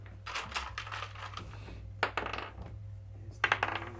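Dice clatter and roll across a table during a tabletop role-playing game, in a few short bursts of rattling clicks with quiet gaps between them and no talking.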